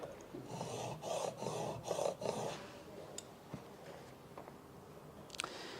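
A blade's secondary bevel is sharpened by hand on a stone in a series of rhythmic rasping strokes, faint and close, followed by quieter scattered scrapes and small taps.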